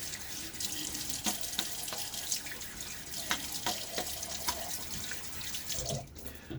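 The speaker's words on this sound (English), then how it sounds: "a little rinsing" A Gillette Aristocrat Jr safety razor is rinsed under a running tap, with a steady close stream of water splashing into a sink, broken by small irregular clinks and drips and no voice.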